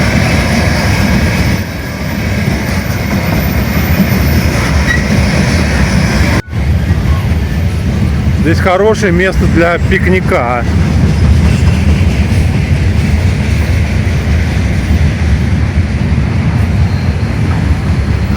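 Loud, continuous rumble of a freight train carrying containers on ordinary wagons rolling past up close, with rhythmic wheel clatter and a brief metallic squeal; someone speaks briefly over it.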